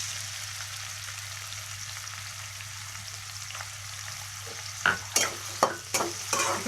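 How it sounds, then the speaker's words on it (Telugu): Chopped onions frying in hot oil give a soft, steady sizzle, then a series of louder stirring scrapes and clatters near the end. "ఆయిల్ వేడైన తర్వాత ఇందులో కట్ చేసి పెట్టుకున్న ఆనియన్స్ వేసుకోవాలి"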